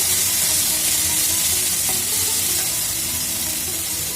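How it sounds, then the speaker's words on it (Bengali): Onion, potato and okra fry in a pan with a steady, dense sizzle and crackle, close and loud throughout, with light stirring scrapes mixed in. "দিয়ে আমি এগুলো পেঁয়াজ আলু ভেন্ডি একটু ভেজে নেব"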